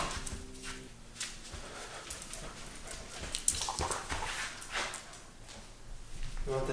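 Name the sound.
Alaskan Klee Kai mini husky dog whimpering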